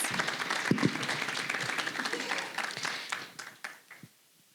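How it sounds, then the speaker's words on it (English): An audience at a Johannesburg civic panel on building a city for children applauds a speaker with a full burst of clapping that thins out and fades to near silence by the end. "A round of applause."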